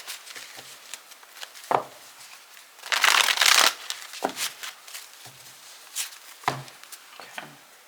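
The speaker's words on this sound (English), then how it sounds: "I'm not going to shuffle the way I just did, because that took entirely too long" A deck of tarot cards is shuffled close up, with a dense riffle burst in the middle and scattered soft card slaps and taps before and after, quiet and alone.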